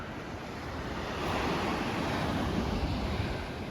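Atlantic surf on a wide beach at Albufeira, Algarve, Portugal, rolls and hisses steadily, a broad wash of breaking waves with some wind buffeting the microphone and no voices.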